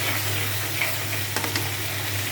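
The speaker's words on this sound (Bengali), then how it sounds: "মশলাটা কষানো হয়ে গেছে হচ্ছে" Spice paste for a fish curry sizzles and fries in a pan, a steady soft hiss with a couple of faint scraping stirs, no voices.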